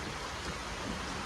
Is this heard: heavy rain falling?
yes